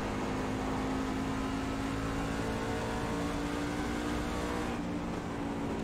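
A racing truck engine roars in an eSports truck series race at Lucas Oil Raceway, a continuous loud, steady drone with sustained tonal whine throughout, no voices present.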